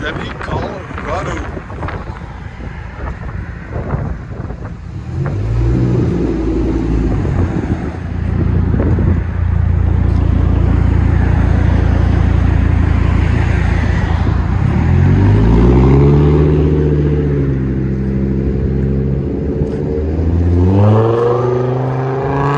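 A straight-piped 2006 Chevy Colorado 3.5L inline-five runs with a loud, deep exhaust drone, climbing into a sustained rev and then sweeping up and down in pitch near the end.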